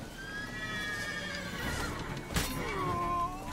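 Horses whinny in The Witcher: Wild Hunt, a long neigh rising and falling over a steady game ambience, with a sharp burst near the middle and a second whinny toward the end, hooves faintly clopping beneath.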